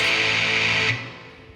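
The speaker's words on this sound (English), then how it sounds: "We'd have a minor first chord" A single minor chord rings out on a heavily distorted metal electric guitar, loud and buzzy for nearly a second before being cut off and decaying quickly into near silence.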